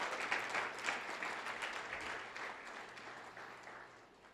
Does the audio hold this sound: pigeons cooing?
no